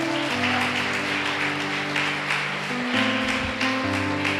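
A church congregation applauds steadily while organ or keyboard chords play underneath, the clapping continuous and fairly loud throughout.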